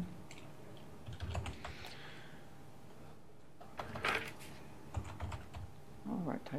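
Typing on a computer keyboard during a K-3 literacy committee meeting, with scattered bursts of key clicks at a low, steady level and some quiet background activity.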